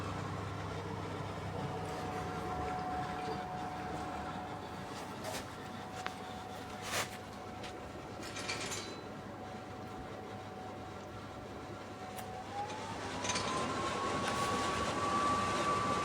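A pellet stove's automatic fan running at high power hums with a constant tonal whine, its pitch rising toward the end, accompanied by a few faint clicks.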